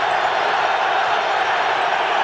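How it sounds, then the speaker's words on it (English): A stadium crowd at the 2000 NFC Championship NFL game between the Vikings and Giants in New York roars in a steady, dense, loud wall of cheering with no break. "Listen to this crowd."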